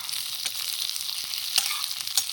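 Onions and chicken meat frying in a pan at a night campsite, giving a steady close hiss and sizzle with a few sharper crackles and stirring scrapes, no talk.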